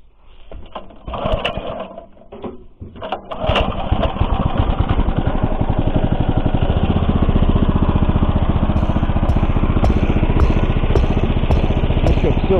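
A Zarya rotary mower driven by a walk-behind tractor engine: after a few clunks and knocks the engine starts and settles into a loud, steady, close running drone.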